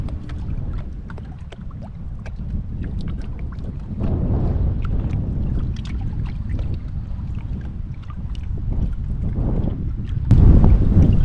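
Boats on West Point Lake, Georgia, a low rumbling engine wash rising and swelling as craft pass at a distance, mixed with wind buffeting the microphone and water noise, no talk.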